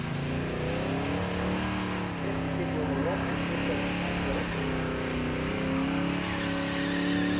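A car doing a burnout during Summernats burnout eliminations, with smoke funnelled out past rear spats, its engine droning loud and steady with tyres roaring continuously while commentators talk over it.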